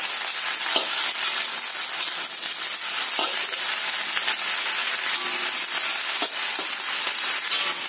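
Bok choy stir-frying in a pan over medium heat, a constant crackling sizzle with occasional scraping stirs, up close and without speech.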